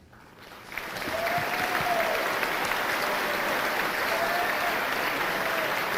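An audience bursts into sustained applause at the 2018 WS/FCS All-County Band ceremony honoring a band director for 50 years of service, the clapping starting after a brief quiet moment and holding steady, dense and close.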